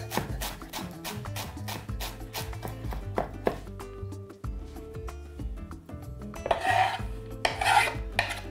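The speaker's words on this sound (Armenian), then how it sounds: "թեթևակի կտրատում ենք ընկույզը" A knife chops walnuts on a board with quick rhythmic knocks, pausing briefly midway and then going on with rougher scraping and crunching strokes, close and clear, with no talk.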